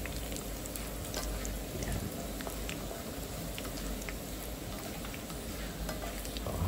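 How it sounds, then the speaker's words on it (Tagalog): Dried anchovies fry in a pan outdoors and are stirred steadily, producing a soft, continuous crackling sizzle with light scraping, fairly faint and even throughout. "Ayan, ang dilis ang una nating niluto."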